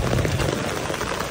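Heavy rain falling at Angkor Wat temple in Cambodia, a loud, dense and continuous patter close by with no break and no voices.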